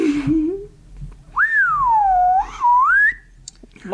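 A slide whistle rises and falls in pitch, sweeping low and then high in a looping glide that lasts a few seconds, up close and loud against a quiet background.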